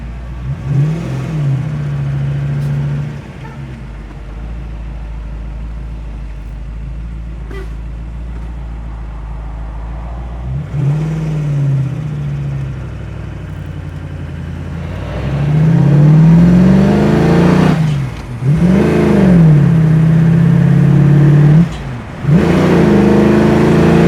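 A 1966 Ford Mustang convertible with a 347 V8 pulls hard on the road through four gears, each loud rising rev ending in a dip at the shift, growing louder toward the end.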